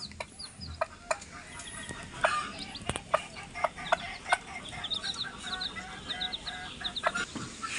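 Hens in a coop cluck nearby in a scattered, irregular rhythm of short calls, with some faint bird chirps in the background.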